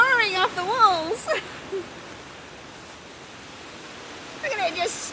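Heavy spring rain pours off garden walls in a steady rushing hiss, with a person talking over it at the start and again at the end.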